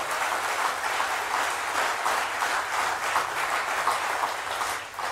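An AfD political rally audience in Germany applauds for several seconds, a sustained, even wash of many hands clapping with slight rhythmic swells, moderately distant and with no speech over it.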